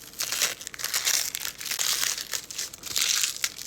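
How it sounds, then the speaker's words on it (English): A cook peels the dry, papery outer skin from an onion being prepped for an onion boil, a close crackly crinkling and crumpling that rises and falls in bursts, with no talking. "We're gonna peel just the first 2 layers. Let's make a little slit to help us do that."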